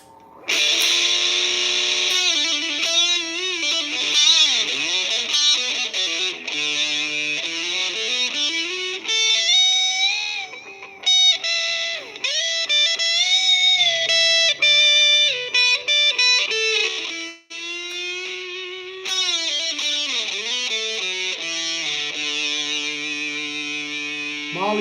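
An electric guitar played in a bluesy style with an effects-laden, echoing tone sustains long bending notes and slides, clear and up close, with no talk.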